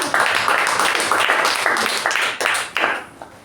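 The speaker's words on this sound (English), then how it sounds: "So big round of applause to him." Applause at a club speaking meeting, many hands clapping in a dense, steady patter that swells and fades in waves, close and loud, trailing off near the end.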